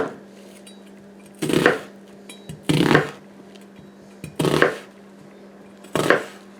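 Onions chopped by knife on a cutting board in a kitchen: four separate bursts of quick, close chopping strokes, spaced apart by quiet pauses over a low hum.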